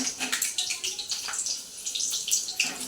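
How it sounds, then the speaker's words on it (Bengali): Pointed gourd (potol) sliced lengthwise sizzles in hot oil, a dense continuous crackle and hiss with small irregular pops, close and fairly loud. "একটু এই যে পটলটা ভাজবো এখন, ছেড়ে দিলাম।"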